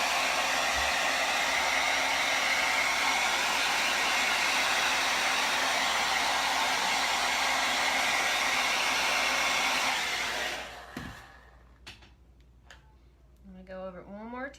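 A hair dryer blows a loud, steady whoosh across a freshly painted wooden door hanger for about ten seconds, then cuts off, leaving faint clicks and a voice speaking near the end.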